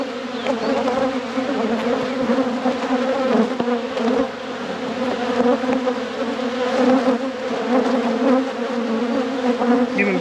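Agitated honeybees swarm and buzz loudly in a dense, continuous drone while the bottom deep box of a hive is opened and inspected after winter.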